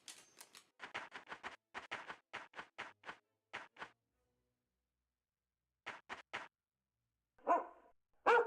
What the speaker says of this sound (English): Good dog, Toby